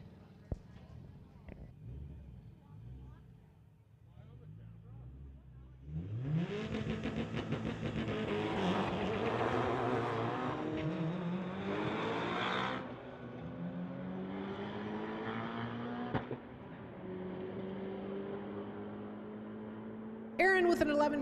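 A 2006 Subaru and a 2014 BMW 328 launch in a street-legal drag race at a track, engines rising through rapid upshifts and roaring loudly, then fading, with a commentator's voice over the start.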